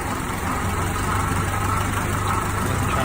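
A Honda B16A3 engine idles steadily with a low, continuous rumble and a faint mechanical whir, holding level throughout with no talk over it.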